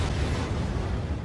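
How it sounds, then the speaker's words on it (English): The Chernobyl reactor core exploding, heard as a brief, loud, dense roaring burst that stays heavy and rumbling throughout, with no voices. "At long last, we have arrived. 123:45 explosion."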